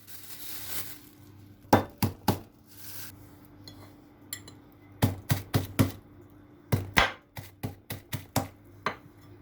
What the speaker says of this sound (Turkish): Bu bademleri biraz ezeceğim.